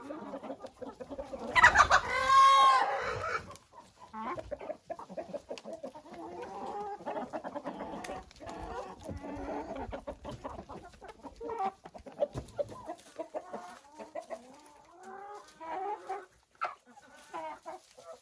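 Chickens cluck in a chicken coop. A loud, close squawk comes early, then softer, scattered clucks and murmurs continue from several birds, with no talking.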